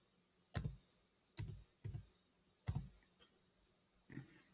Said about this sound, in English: We're going to go and type in the category number.